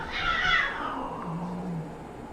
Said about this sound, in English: That was a cat fighting with another cat